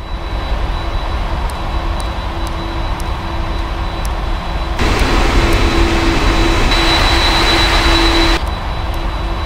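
Cargo jet engines spool up for takeoff in a Prepar3D flight simulator aboard an Atlas Air flight departing Munich, a steady loud roar that surges sharply halfway through, with a thin whine riding on top.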